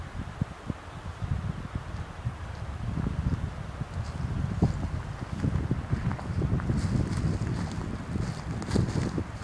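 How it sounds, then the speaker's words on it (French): Wind blows steadily and fairly strongly through the Cambaie forest on Réunion, buffeting the microphone with low rumbling gusts and rustling leaves, with no talk. "On voit un peu le vent qui souffle un peu plus soutenu,"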